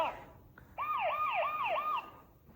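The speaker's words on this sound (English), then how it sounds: "Police car. Police car." A children's vehicle sound book plays a police car siren, a wailing two-tone whoop repeating about four times, clear and moderately loud after a brief quiet start.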